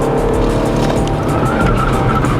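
A Holden Commodore VE is held in check by its stability control, with tires squealing and skidding over a loud, constant engine drone, a thin squeal line running steadily through the roar.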